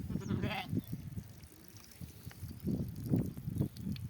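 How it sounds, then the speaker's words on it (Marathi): Several sheep bleat on and off nearby in a pen during rain, with a low murmur of animals and faint background noise between the calls. "बघा असा आपला मेंढ्यांचा वाडा मेंढर बसलेले"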